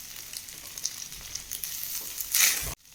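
Chickpea rice stirred in a hot pan, a busy crackling sizzle with scraping strokes that swells into a loud burst near the end, then cuts off abruptly.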